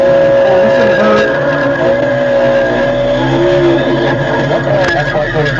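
A NASCAR race car breaks loose and spins to miss the wall, engine roaring and tires skidding with a loud, continuous howl while excited voices talk over it.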